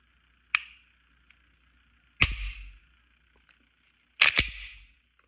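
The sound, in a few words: Glock pistol trigger pulled and reset, clicking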